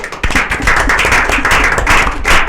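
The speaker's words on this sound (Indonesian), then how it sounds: "Oke, tepuk tangan buat kita semua." An audience claps hands together in sustained applause after a research competition talk, a dense burst of many hands that begins abruptly and holds steady and fairly loud throughout.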